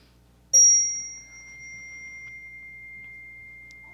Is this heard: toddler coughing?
no